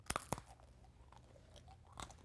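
Two sharp crunchy bites into airy, honeycomb-holed Changpyeong rice taffy, a traditional Korean rice yeot, followed by faint chewing and a third crisp crunch near the end, close and without talk.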